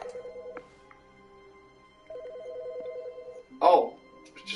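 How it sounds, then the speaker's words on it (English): Telephone ringing in the video game The Stanley Parable, two bursts of a warbling ring heard at moderate distance, with a voice briefly talking between them. "Why did I hear a phone ring?"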